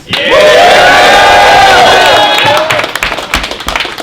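A loud rap battle crowd at King of the Dot Vancouver roars and cheers with shouts and whistles, sustained at full volume before thinning into scattered yells and claps.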